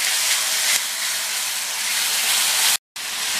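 Tomato paste for kara kuzhambu sizzling in a pan, a loud, close, continuous hiss that holds steady and breaks off briefly near the end before resuming.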